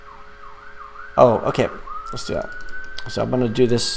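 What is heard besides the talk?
emergency vehicle sirens outside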